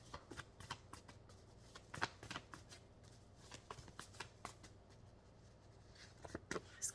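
Tarot cards being pulled and shuffled by hand, a quick run of crisp, papery riffles and taps in an uneven rhythm, close and fairly quiet, with no talking.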